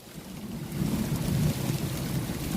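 A low, rolling rumble of thunder swells and lingers for a couple of seconds over a steady wash of rain, heard outdoors during a rainstorm with no voices.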